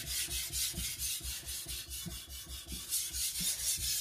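A knife blade is drawn repeatedly across a sharpening stone at a shallow angle, making a steady rhythmic rasping scrape, close and fairly quiet.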